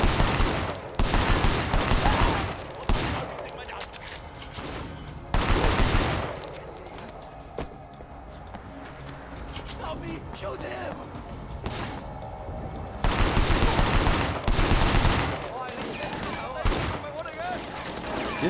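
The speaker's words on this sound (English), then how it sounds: "These guys have assault rifles." Assault rifle fire in the Sleeping Dogs game during a docks shootout, coming in loud repeated bursts of automatic shots between quieter stretches, with a voice talking over parts of it.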